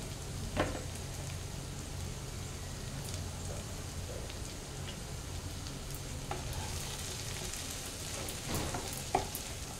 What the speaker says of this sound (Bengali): এই সময়টা আমি হালকা হাতে মিক্স করছি।